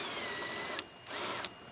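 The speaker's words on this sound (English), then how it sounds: "So we'll just pop that 7 millimeter bolt out." A power tool spins out a 7 mm bolt holding the grille on a 2022 Ford Bronco, two close whirring bursts with a brief pause between them and no talking.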